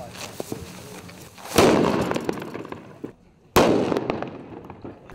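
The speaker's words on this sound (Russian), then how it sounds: "путем детонации взрывчатое вещество обезвреживается на месте." Explosive material is neutralized in place by detonation in a forest area, two sharp, loud blasts about two seconds apart, each with a crackling decaying tail, amid faint outdoor noise.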